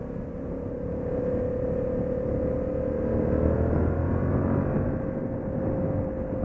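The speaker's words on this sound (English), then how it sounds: "It's definitely got that V-twin sound." A Yamaha FZ-07 motorcycle twin engine runs while riding at a demo event, a steady low rumble with rising mechanical tone, moderately loud and alone.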